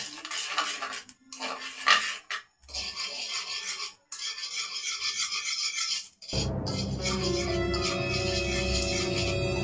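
A utensil scrapes and rasps against a pan while sugar is stirred until it softens, loud irregular strokes with short pauses, then a denser steady scraping with a lower rumble.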